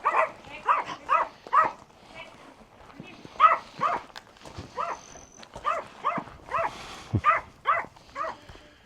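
Dogs at an RV park barking in repeated short bursts, fairly close and clear, with brief pauses between volleys and some background noise around them.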